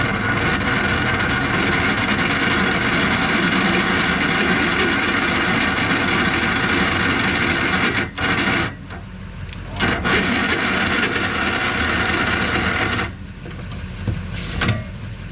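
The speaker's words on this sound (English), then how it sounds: "Let's try the impact first." An impact driver cranks a trailer jack to lift it off a truck, buzzing steadily with a mechanical rubbing whir and then stopping in short breaks near the end.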